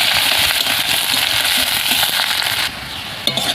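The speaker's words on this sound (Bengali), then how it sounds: "পেঁয়াজটাকে একটু লাল লাল করে ভেজে নেব।" Chopped onion fries in a hot pan with a dense, loud crackling sizzle that runs continuously, dipping slightly near the end, no voices.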